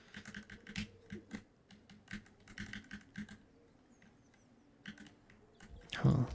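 Keys clattering on a custom computer keyboard with swapped WASD keys, quiet irregular tapping and clicks in short runs, ending in a louder thump.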